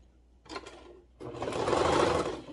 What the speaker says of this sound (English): that's what I'm going to put underneath my serger here